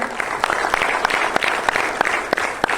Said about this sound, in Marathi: मॅडमसाठी पण जोरदार टाळ्या व्हायला पाहिजे.